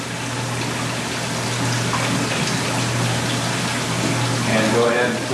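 Water runs and gushes continuously as feed goes into a Black Gold magnetic separator processing black sands for gold mining, a steady close wash with a low hum beneath.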